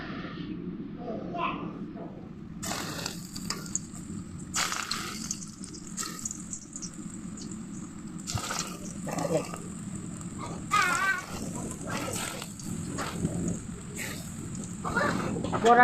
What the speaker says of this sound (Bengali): সরষের তেল দিয়েই বড়া ভেজে নেব।